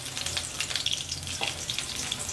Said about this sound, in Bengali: ক্যাপসিকামগুলো আমার ভাজা হয়ে গেছে